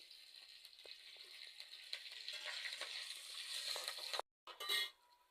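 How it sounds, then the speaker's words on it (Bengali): Bay leaf, four green chilies and five-spice seeds frying in hot oil for a ridge gourd and potato poppy-seed dish, giving a steady close hiss with small crackles, then a brief cut and a louder sizzling burst. "আমি একটা তেজপাতা দিয়ে দিচ্ছি চারটা কাঁচা লঙ্কা আর পাঁচ ফুড়ন"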